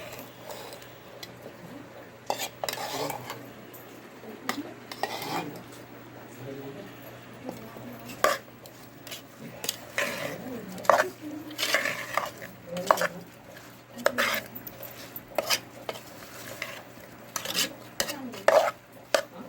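Raw mango pieces being stirred with mustard-and-asafoetida oil for a village-style pickle: irregular clinks and scrapes of a spoon against a metal vessel, close by, with someone talking over them throughout.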